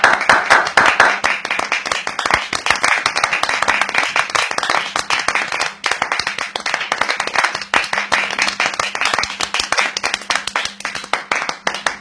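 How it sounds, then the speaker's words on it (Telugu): An audience at a community gathering claps together to welcome a newly named community elder, with dense, sustained applause lasting throughout and a few faint voices underneath. "అందరూ చప్పట్లు కొడుతూ ఆయన సాధారణంగా ఆహ్వానిద్దాం."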